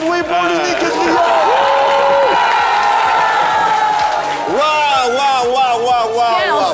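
A studio audience at a French TV talk show cheers, whoops and applauds loudly and continuously for an arriving guest, with voices and music mixed into the crowd noise.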